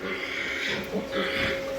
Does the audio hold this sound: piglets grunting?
yes